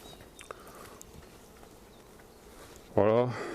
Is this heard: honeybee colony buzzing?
yes